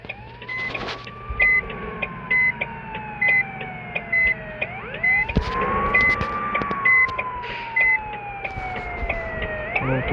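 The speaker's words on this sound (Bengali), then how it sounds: "ও পিছনে অ্যাম্বুলেন্স ছিল।" An ambulance siren on a two-way road sounds over steady traffic and engine noise, its wail rising and falling in long sweeps while a shorter pulsing electronic tone repeats above it, fairly close and loud throughout.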